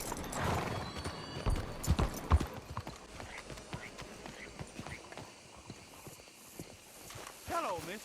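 Horse hooves clip-clopping on the ground in the video game Red Dead Redemption II, irregular thuds of a ridden horse starting off, with a brief whinny near the end and a voice talking over it.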